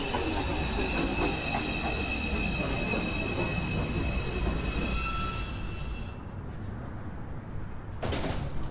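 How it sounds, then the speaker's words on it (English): A New York subway 2 train pulls into a station with loud rumbling, squealing wheels and metallic screeches, then the noise briefly drops before surging again near the end. "This is a Manhattan-bound 2 train."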